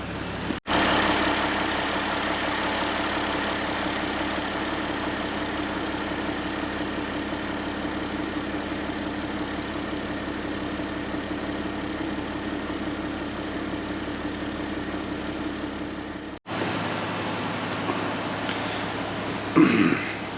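An old International Harvester tractor engine idles at a steady, chugging mid-pitch rumble on a farm morning, cutting out abruptly near the end before a short burst of lower rumble resumes.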